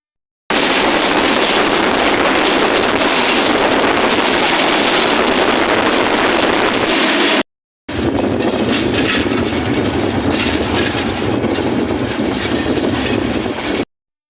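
The Kurigram Express, a passenger train running from Joypurhat toward Dhaka, rumbles loudly and continuously with rail clatter and wind buffeting, broken by one brief cut.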